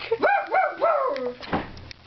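A German Shepherd dog gives a few close, whining, yelping cries in quick succession, each rising and falling in pitch, followed by quieter rustling.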